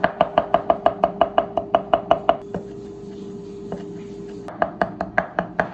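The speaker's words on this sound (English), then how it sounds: "Here I am just chopping everything up" A knife chops microgreen basil and other pesto ingredients on a board in quick, steady strokes, with a brief pause midway before the crisp, close cuts resume.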